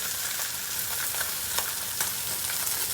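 Pork belly, three pieces, searing in a hot pan to crisp up, giving a steady, close broadband sizzle with faint crackles and pops throughout, no voices.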